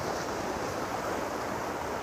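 Ocean waves at Tunggul Buto beach wash in a dense, continuous broadband hiss, loud and close, mixed with wind buffeting the microphone.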